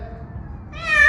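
A cat stuck on a school roof meows once, rising loud and close near the end after a stretch of faint background hum.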